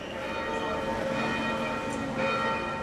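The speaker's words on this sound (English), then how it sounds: "This afternoon, churches across Nice rang out their bells for the victims." Church bells ring out across Nice in France, a continuous, distant-sounding peal with overlapping metallic tones.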